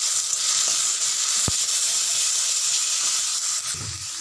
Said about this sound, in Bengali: দিয়ে ভালোভাবে ভেজে, আর এই যে বাটা ঝিঙের খোসা বাটাটা তার মধ্যে আমি দিয়ে দিচ্ছি